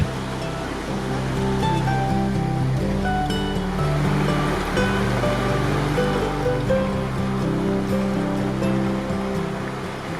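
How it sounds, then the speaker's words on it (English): Steady, full rushing of a creek flowing out of a lake in the Desolation Wilderness, Pyramid Creek system, a continuous broad wash close by with no voices. "The spot where the creek emerges from this lake is a great place to relax before setting up camp."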